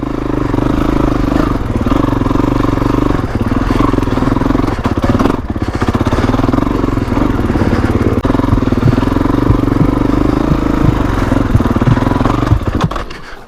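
A 2021 Kawasaki KX450X dirt bike engine lugs at low speed on a tight single-track trail, with a loud, close, continuous thumping drone, small throttle swells and some clatter throughout.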